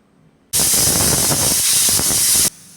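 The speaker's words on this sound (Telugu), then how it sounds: "మూడు విజిల్స్ వచ్చేసాయండి" A sudden loud rush of hissing steam from a pressure cooker, lasting about two seconds before cutting off abruptly.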